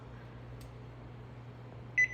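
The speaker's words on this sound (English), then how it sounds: "Timer." An oven timer gives a single short electronic beep near the end, clear and fairly close, after a stretch of quiet room hum with no talking.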